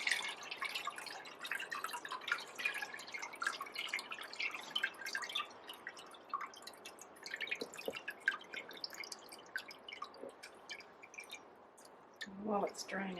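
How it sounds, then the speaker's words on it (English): Water drains from a paper-making mould while recycled paper is being made. Steady, close dripping and trickling continues throughout, with a few louder splashes toward the end. "While it's draining, I'm going to pop a couple of little flowers in here."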